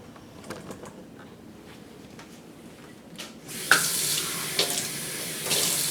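Tap water running from a faucet into a container for a sourdough starter made with unbleached all-purpose flour; the flow starts partway through, loud and steady, with splashing spikes.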